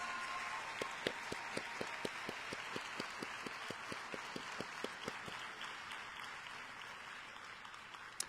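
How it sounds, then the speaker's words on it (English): A graduation audience applauds the class of 2021's top 20 seniors at a high school for the arts: a steady wash of many hands clapping, with a few sharp individual claps standing out near the start. "Another round of applause for the class of 2021's top 20 seniors"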